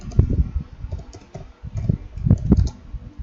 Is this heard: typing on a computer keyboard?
yes